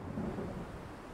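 A low rumble of thunder with steady rain in the racing game Forza Horizon 5, a continuous deep roll under a wash of rainfall, with no talk.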